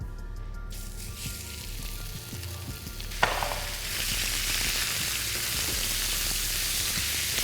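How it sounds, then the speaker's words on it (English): Minced meat hits a hot oiled pan, opening with a sharp burst of sizzling that settles into a loud, continuous close frying hiss with light stirring. No voices. "We're going to put in our mince."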